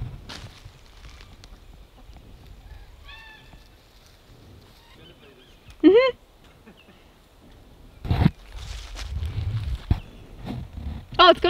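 Chickens in a garden give a few short clucks and squawks amid rustling and footsteps, while people talk nearby.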